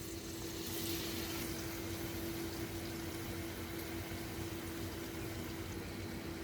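Paneer-stuffed papad fries in hot oil over a medium flame, giving a quiet, steady sizzle and bubbling that runs unbroken throughout with no talking.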